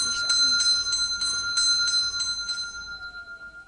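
A doorbell rings at the door of a fairy-tale house in the Efteling theme park, a bright series of repeated metallic chimes with steady tones ringing through them, loud and close, with people talking over it.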